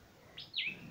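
A bulbul gives two or three clear, bright chirps with a rising and falling sweep, close by and alone against a quiet background.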